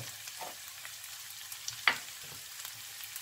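Ropa vieja being stirred in a frying pan, a faint, low sizzle with a few soft scrapes and one sharper clink of the utensil near the middle, quiet and close with no talking.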